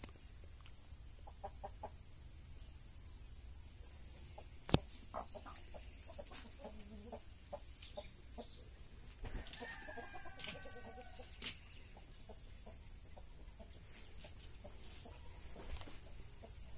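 Chickens cluck softly on a rural farm with scattered short calls against a steady high insect-like whine and low background noise, a few sharp knocks breaking through.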